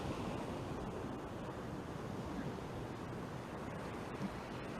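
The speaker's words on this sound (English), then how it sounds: "You hear the calming rhythm of the waves as they break on the shore." Ocean surf breaks steadily on a shore, a continuous soft wash of waves with a faint breeze, heard alone and fairly quiet.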